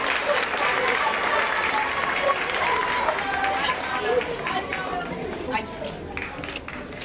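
Fifth-grade students at a school promotion ceremony applaud their parents, with dense clapping mixed with crowd chatter and shuffling that gradually thins toward the end.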